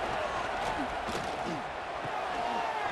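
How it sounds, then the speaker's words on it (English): A stadium crowd at an American football game roars in a steady, dense wash of cheering and shouting that stays loud throughout, with a few voices standing out. "It's early, but this crowd is fired up. Listen to this noise here."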